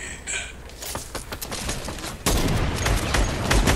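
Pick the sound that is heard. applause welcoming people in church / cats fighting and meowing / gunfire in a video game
gunfire in a video game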